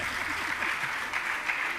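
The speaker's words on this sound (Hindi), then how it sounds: "बजाओ ताली जोर से" Applause from an audience at a Jain monk's religious discourse, a steady dense patter of many hands clapping together, moderately loud and sustained throughout.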